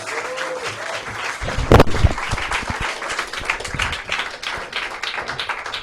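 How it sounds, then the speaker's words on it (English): Audience at a Cavendish Arms comedy night clapping as the comedian comes on, with scattered claps and a sharp burst near the middle, moderately close with a busy room behind. "Keep him clapping, guys! Keep clapping,"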